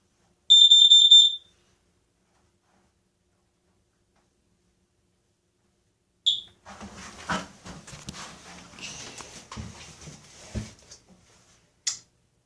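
A combined smoke and carbon monoxide alarm is tested upstairs, a short piercing high beep followed after a pause by a recorded voice announcing warnings, heard close in a quiet room.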